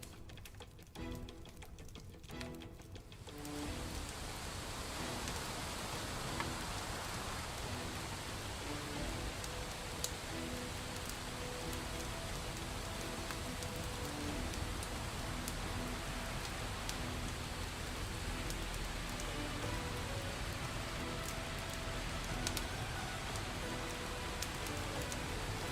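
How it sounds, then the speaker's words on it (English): Rain falling in a colony survival video game, a steady hiss of drops spread evenly and fairly quiet, continuing without a break after a brief muffled opening. "Oh, it's because it was raining."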